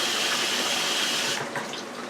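Water pours steadily from a glass over broth in a pot, making a loud, continuous rushing splash that tapers off near the end.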